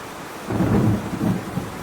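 A low rumble of thunder rolls through a thunderstorm over a constant hiss of rain, swelling in the middle and fading, with no voices.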